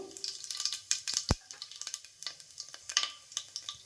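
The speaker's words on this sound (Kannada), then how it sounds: "ಎಣ್ಣೆ ಕಾಯ್ತಿದ್ದಾಗೆ ಸಾಸಿವೆಯನ್ನು ಹಾಕ್ತಿದ್ದೀನಿ, ಜೀರಿಗೆಯನ್ನು ಹಾಕ್ತಿದ್ದೀನಿ" Mustard and cumin seeds crackling in hot oil for a vegetable pulao, a close run of sharp, irregular pops and spits over a soft sizzling hiss, with one louder thump partway through.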